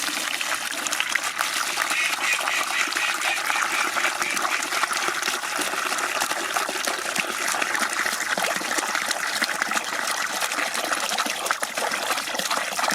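Water pumped through a hose from a garden water butt pours steadily into a 12 litre bucket, a continuous close gushing and splashing that fills the whole stretch with no talk over it.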